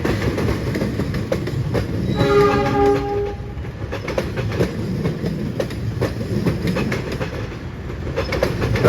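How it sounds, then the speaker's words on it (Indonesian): A Cikuray passenger train departs Bandung station, sounding a sustained horn blast over the steady rumble and clatter of rolling cars, close and loud. "masih keburu momen kereta api Cikura diberangkatkan dari stasiun Bandung ya"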